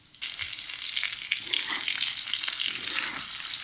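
Pickle spices and ingredients fry on medium heat for a homemade mixed achar. A continuous, bright sizzle starts abruptly and holds steady, with faint stirring scrapes and no voices.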